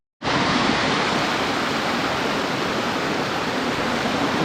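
Steady, loud rush of flowing water at a scenic outdoor spot in Honnavar, a constant broadband roar that starts abruptly and holds evenly throughout with no voices.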